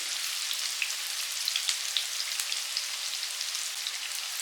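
Sliced onions and curry leaves fry in a pan with a continuous close hiss and a scatter of small pops and crackles, with no talk.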